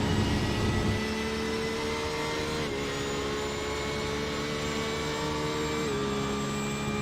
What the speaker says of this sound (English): You just hear the Porsche engine scream